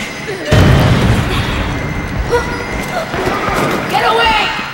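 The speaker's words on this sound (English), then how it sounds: "Grenade! Incoming! Watch out!" A grenade detonates in the Resident Evil video game: a loud boom bursts in early and then rumbles on, with shouting voices over the blast and the clatter that follows.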